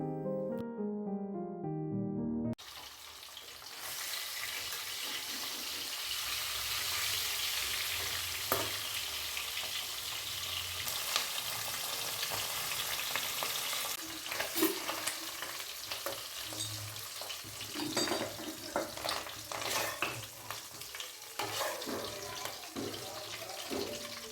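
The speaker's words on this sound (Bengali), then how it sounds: "ভাত হওয়ার পরে মাছ ভেজে নিয়েছি" Fish frying in oil in a pan on a home kitchen stove, a steady close sizzle running throughout with occasional clicks and spatters, after a short tonal sound at the start.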